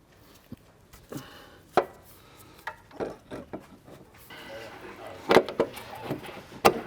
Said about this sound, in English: line up our ball joint end and feed it through the wheel carrier over here as best as possible